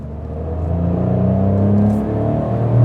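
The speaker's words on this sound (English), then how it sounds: "it sounds great because it's a 3-cylinder engine." Fiat Panda Hybrid three-cylinder engine revving from inside the car, a rising, throbbing rumble with a distinct low harmonic growl that climbs, dips briefly, then pulls up again.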